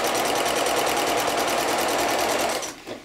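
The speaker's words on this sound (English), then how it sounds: "You have to give it a little push over some of the heavy seams." A sewing machine runs continuously, stitching over heavy seams of a bib apron with a fast, even mechanical rattle that stops abruptly near the end.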